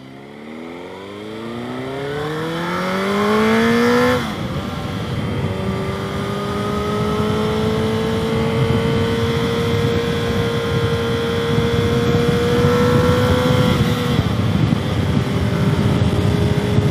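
A Suzuki GSX-R 1000 sportbike with a newly replaced fuel pump, ridden hard on the road and revving up through the gears, its engine note climbing in pitch, then a shift and a long, steady, loud high-rpm pull.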